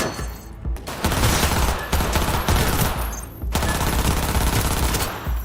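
Automatic gunfire in the video game Cyberpunk, loud close bursts of rapid shots in three long sustained volleys separated by brief pauses.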